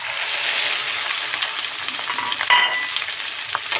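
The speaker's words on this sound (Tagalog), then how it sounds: "Ito na ating bawang. Nalagyan na natin ang atay." Garlic and pork liver sauté in a hot pan, a steady close sizzle with stirring scrapes and occasional utensil clinks, no voices.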